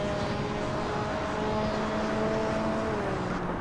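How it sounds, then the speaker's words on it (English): Loud, noisy car engine in the Hot Wheels animated series, a constant droning roar with a steady whining tone that dips slightly near the end, no voices heard. "My god, Lilo, your car is noisy!"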